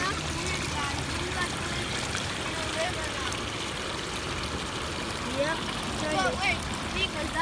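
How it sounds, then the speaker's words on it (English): Water runs out of a small drain beside a fishing spot on a rainy day, a continuous trickling, burbling flow heard close up and steady throughout, with faint background sounds on top. "What's that running water? It's like a little drain from the scoop here."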